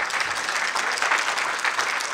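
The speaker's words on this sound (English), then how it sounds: "You may applaud." Steady applause from the audience closing a Democratic primary debate for Indiana Senate District 3 at a community center, dense and continuous clapping throughout with no pauses.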